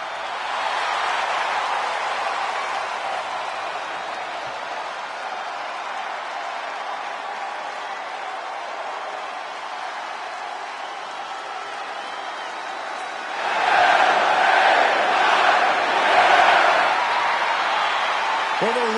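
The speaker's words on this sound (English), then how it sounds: "the roar of the crowd tells you all you need to know" Arena crowd in the wrestling video game WWE 2K25 during a WrestleMania entrance, a sustained roar and cheering that swells louder near the end while a commentator talks over it.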